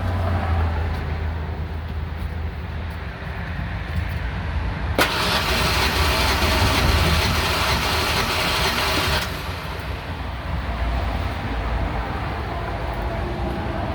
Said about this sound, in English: We're gonna go ahead and crank it for a couple more seconds.